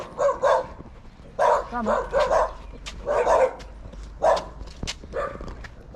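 Several dogs bark repeatedly in short, sharp bursts at moderate distance, outdoors at the southern tip of Taiwan, with a brief spoken word among them.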